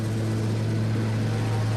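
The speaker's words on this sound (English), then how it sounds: "In light snow, with the temperature hovering around freezing, Thane and Raymond start their takeoff run" An airliner's engines spool up as it begins its takeoff run in light snow at near-freezing temperatures, a steady loud droning roar with strong low tones and no speech.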